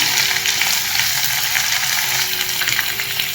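Onion dropped into hot spiced oil tempering with bay leaves for veg dalcha, a loud, dense frying hiss filling the whole moment up close with faint crackles.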